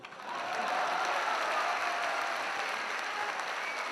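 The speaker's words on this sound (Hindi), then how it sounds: "एक बार मेरे सम्मान में तालियां बजा दो।" A comedy show audience breaks into sustained, dense applause that swells quickly and holds steady at full strength.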